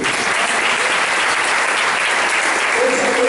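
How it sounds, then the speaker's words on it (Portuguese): Church congregation at an annual congress claps in sustained, dense applause, steady and loud throughout. "Dá uma aplauso ao Senhor pela vida dele."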